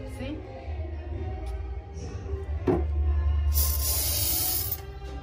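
An aerosol can of insecticide sprays at cockroaches indoors, giving a loud steady hiss in the latter part of the clip, with a person talking before it.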